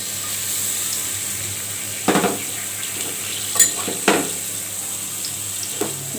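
Chopped onion and a little chopped garlic fry in oil in a pan, giving a steady, soft sizzling hiss broken by a few louder scraping stirs.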